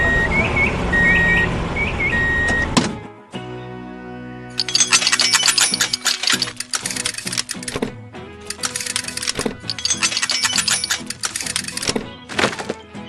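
A yellow dump truck and a crane work a construction site: a run of steady reversing beeps, then a brief pause, then loud, dense bursts of clanking and thudding as materials are moved.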